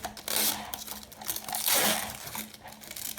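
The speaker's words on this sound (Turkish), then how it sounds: "Bu arada arkasındaki jelatinini açalım." Protective plastic film is peeled off the back of an Ajazz AK33 mechanical gaming keyboard, giving bursts of close, crackly crinkling and tearing that rise and fall in two or three long pulls.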